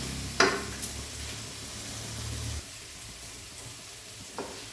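Kambili lime pickle being stirred slowly in a hot pan: a close, continuous sizzle with a couple of sharp utensil clicks early on, easing to a quieter hiss and a final light tap.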